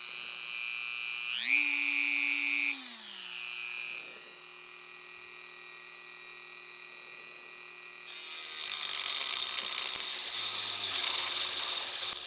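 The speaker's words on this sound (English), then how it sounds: "We're gonna go ahead and cut this whole piece off right here." Small rotary power tool cutting a piece off a knife-making workpiece beside a belt sander: a steady high whine that rises in pitch briefly, then a harsher, louder grinding buzz as the cut bites in, close and continuous.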